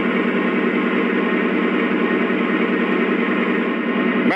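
A Lionel FM H24-66 TrainMaster model diesel locomotive plays its electronic engine sound, a steady throaty, bassy rumble that holds evenly for several seconds, close and fairly loud.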